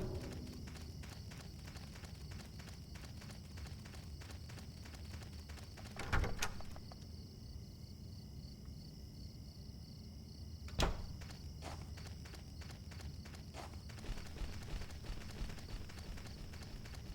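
Steady footsteps of a character walking in the video game Silent Hill 4, soft and repetitive over a constant low ambient drone, with a couple of brief louder thumps.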